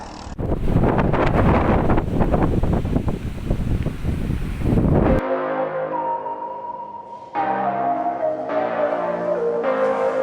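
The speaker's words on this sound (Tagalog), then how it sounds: "Pinahirapan pa kami ng malakas na hangin." Loud gusty wind roars against the microphone for several seconds on a rainy bike ride, then gives way to quieter, steadier tones.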